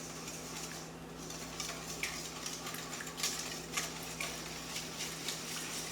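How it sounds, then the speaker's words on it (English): Quick light clinks of a whisk against a bowl while mixing muffin batter ingredients with canola oil, a soft irregular ticking rhythm close by under a low steady hum, with no talking. "I'm going to go ahead and whisk these ingredients together."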